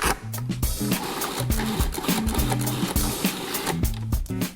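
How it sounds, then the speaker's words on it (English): A food processor grinds a pesto-like mixture with salt and pepper, its motor droning steadily and shifting in pitch in short pulses as the blades work through the ingredients. The sound is close and continuous. "right into the food processor"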